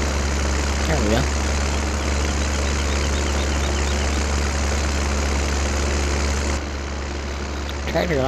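Close and steady, a tractor engine plowing snow rumbles low and constant throughout, a brief voice rising over it early and again at the end.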